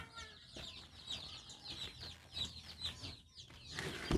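Backyard chickens clucking and cackling in a repeated, irregular chorus, fairly close but soft, with a brief crow-like call near the end and no talk.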